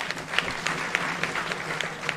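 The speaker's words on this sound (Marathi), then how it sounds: "त्यांच्या संस्थांसाठी एकदा टाळ्या वाजवा." An audience at a kirtan in Nashik applauds, a steady patter of many hands with sharper individual claps, moderately distant.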